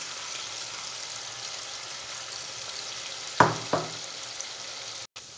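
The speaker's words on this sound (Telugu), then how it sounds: "ఇలా వేగుతున్నాయి కదండి" Cabbage 65 pieces deep-frying in hot oil give a steady, soft sizzle throughout, with two brief louder bursts near the middle as more pieces go into the pan.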